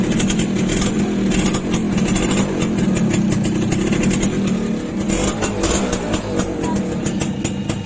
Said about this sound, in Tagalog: Yung tambutso na lang yung maingay.